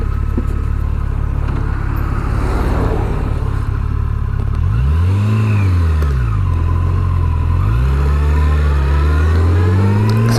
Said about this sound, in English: Beautiful creamy 4-cylinder engine